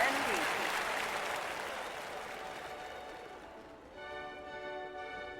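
Stadium crowd applauding and cheering at a men's skeet shooting final in the London 2012 Olympic video game, a dense roar that holds steady, then thins as bright sustained music tones come in near the end.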